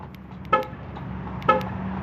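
Two short car horn chirps about a second apart, close by, over a steady low engine hum, the quick beeps of a Mercedes locking via its keyless-go key fob.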